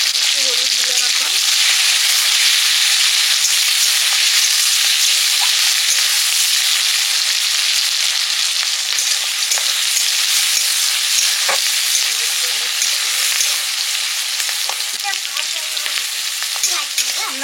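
Ghugni with green chilli and turmeric sizzling steadily in a hot pan, a loud, continuous frying hiss with occasional stirring scrapes, no voices.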